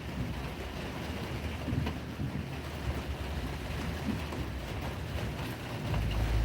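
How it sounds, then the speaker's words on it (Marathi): Steady roar of strong wind buffeting the microphone, with a dense wash of heavy rain underneath, continuous and loud, during a thunderstorm in Chhatrapati Sambhajinagar (Aurangabad), India. "छत्रपती संभाजीनगर येथे वाऱ्या वावजनासह जोरदार पावसाला सुरुवात"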